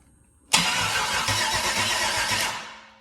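An LS 6.0 V8 engine cranking and catching, a sudden loud burst of engine noise that holds for about two seconds, then tapers off, close by.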